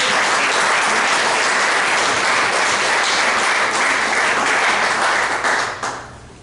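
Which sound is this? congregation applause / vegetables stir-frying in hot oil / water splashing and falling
congregation applause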